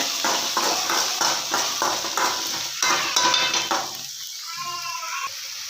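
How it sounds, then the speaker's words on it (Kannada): Tomato and onions being stirred and fried together in a pan for vegetable Maggi: a steady sizzle with rhythmic scraping strokes of a spoon against the pan, loud and close, then settling into a quieter hiss. "ಟೊಮೊಟೊ ಹಾಕಿ ಬೇಡಿಸೋಣ"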